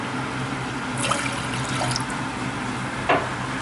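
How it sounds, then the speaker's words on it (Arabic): Water pours from a cup into a pan while kunafa is being made, a soft steady trickle under a background hum, with a couple of brief splashy bursts. "هنبتدي دلوقتي نحط الميه"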